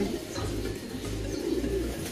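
Pigeons in a loft give soft, low cooing calls, close and continuous, with a murmur of room noise around them.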